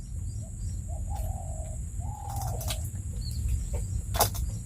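A few peacock calls ring out over a steady low background hum, separated by brief pauses, at moderate distance.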